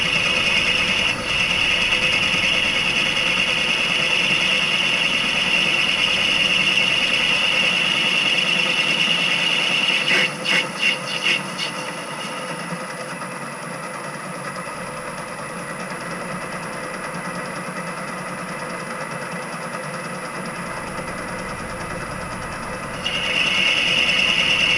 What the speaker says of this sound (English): It's a bit noisy because I've got gearbox running